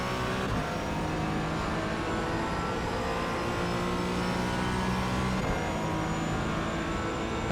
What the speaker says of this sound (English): Car coming up behind.